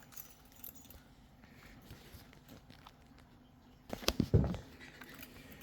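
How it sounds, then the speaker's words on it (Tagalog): The keys of a Jinli motorbike jangle in a short, loud burst of metallic clinks near the end, after a quiet stretch with faint background rustle. "Ito yung susi ng Jinli."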